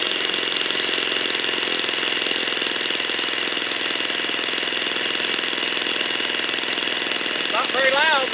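Vintage 50-plus-year-old Falcon 56 RC model airplane engine running with no muffler or pipe, a steady, dense buzzing drone that holds evenly throughout, with a brief higher whine near the end.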